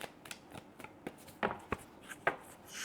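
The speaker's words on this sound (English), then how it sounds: "Let's get one of these cards out." Tarot cards shuffled by hand, a steady series of soft riffling slaps and flicks up close, ending in a longer brushing swish as a card is drawn.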